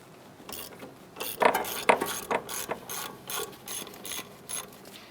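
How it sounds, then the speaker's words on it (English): A ratchet clicks in uneven bursts while loosening and removing the 14mm bolt on the strut clevis of a 2004-2008 Acura TL, loud and close with brief pauses between runs of rapid pawl clicks. "there's a 14mm bolt on the back side. Let's go ahead and loosen and remove it."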